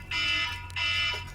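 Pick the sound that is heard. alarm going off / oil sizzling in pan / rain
alarm going off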